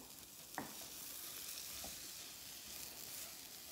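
Semolina for upma roasts in a pan with a soft, faint, continuous sizzle, broken by a couple of light spoon taps as it is stirred.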